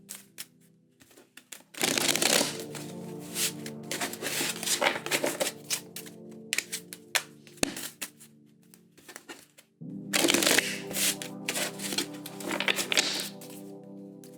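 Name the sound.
shuffling a deck of tarot cards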